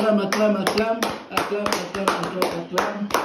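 Congregation clapping in rhythm at a French-language prayer service, steady repeated hand claps close by with voices talking and cheering underneath.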